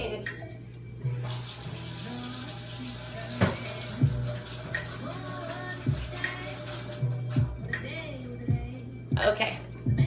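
Water from a tap runs steadily into a sink during handwashing, with splashing and intermittent clatter, while a voice talks and a low tone hums throughout.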